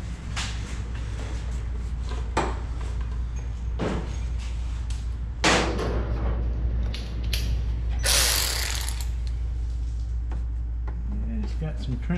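Ratcheting and mechanical clicks as the instrument cluster is removed from a 1977 Pontiac Trans Am, close and repeated with a few sharp knocks, over a steady hum.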